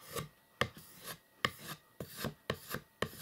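A MoraKnife blade is stroked across fine 3000-grit sandpaper, giving about seven crisp, evenly paced rasping scrapes, close and clear with no talk.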